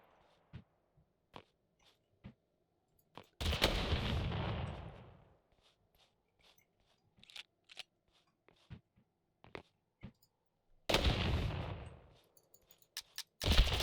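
Gunfire in the battle royale game Totally Accurate Battlegrounds, with two loud sustained bursts of shots and several scattered sharp single reports between them, fairly close.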